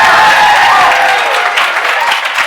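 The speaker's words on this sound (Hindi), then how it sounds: "तुम लोगों ने इन बच्चों के लिए जोरदार तालियां बजानी चाहिए।" A classroom of students applauding fellow students during a CA Intermediate costing lecture, a loud, sustained wash of clapping that fades slightly toward the end.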